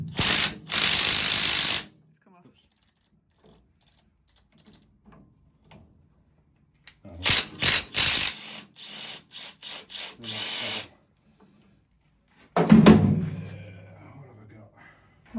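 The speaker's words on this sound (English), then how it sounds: "Pull the pulley off with the puller without damaging it." A puller ratchets a pulley off a flywheel, sounding as bursts of rapid metallic clicking close by, separated by quiet gaps, ending with a louder clunk as the part shifts.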